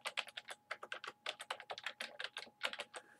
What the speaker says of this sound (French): Et là, je suis en mesure de taper Willie Desmarais